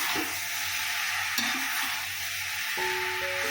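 Jackfruit puzhukku is stirred in a pan, giving soft scraping and a low frying hiss up close, with a brief clink and a steady hum coming in toward the end.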